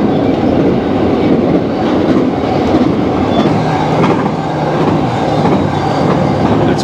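A train rumbles past close by on tracks cutting through a waterfront neighborhood, with continuous heavy rolling noise and faint rhythmic clacking of wheels on the tracks.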